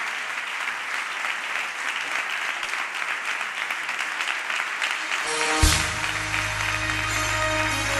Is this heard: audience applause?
yes